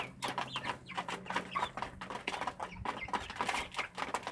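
Chickens and roosters on a small rural farm plot clucking and calling, a dense stream of overlapping bird calls throughout, close and moderately loud with no talk.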